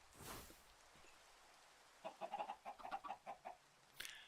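Chickens in a video game give a short run of soft clucks, a quick cluster of repeated notes in the middle of an otherwise quiet stretch, faint and fairly close.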